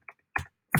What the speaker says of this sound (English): For the purpose of this email, I'm just going to type one in.